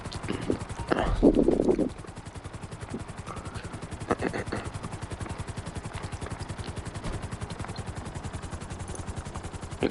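A helicopter in Grand Theft Auto Online, its rotor chopping in a steady, rapid rhythm close by, with a short louder burst of impact and mechanical noise near the start.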